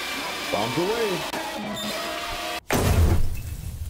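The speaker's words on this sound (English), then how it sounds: "That's a good explosion." In the video game Amanda the Adventurer, a sudden loud blast cuts through after a voice and steady hum, followed by a rumbling, noisy roar that slowly fades.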